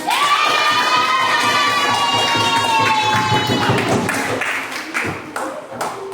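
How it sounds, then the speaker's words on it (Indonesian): Children in a classroom clap and cheer together after a lesson on sujud syukur, loud shouting voices over steady clapping that fades slightly toward the end. "Tepuk tangan buat kita semua"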